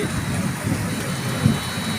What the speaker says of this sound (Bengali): মোটামুটি বৃষ্টি হচ্ছে